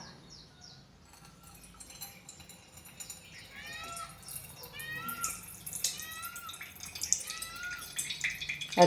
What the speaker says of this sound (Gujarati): છાશ ને પાણીનો ભાગ નીકળે છે